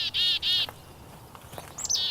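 A chickadee gives two bright, whistled notes close together, followed by quieter chips and a rising, slurred call near the end, heard clearly against soft background noise outdoors.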